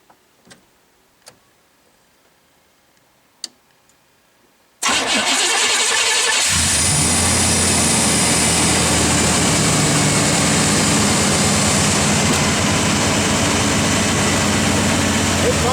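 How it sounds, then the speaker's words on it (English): An old red truck's 350 engine is heard. After several faint ticks in near silence, it cranks briefly, fires and settles into a loud, steady idle that runs on to the end. "I guess we'll give it a little crank and see if it'll turn over"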